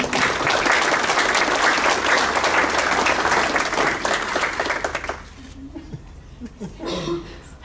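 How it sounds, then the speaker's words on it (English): An audience applauds an honoree at a school district's distinguished staff awards ceremony, a loud sustained round of clapping for about five seconds that tapers off into scattered claps, murmurs and a cough. "Let's give her another round of applause"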